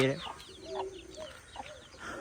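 Young chicks at home cluck and peep in a rapid series of short, fairly close calls, with a few louder chirps standing out over a low background murmur.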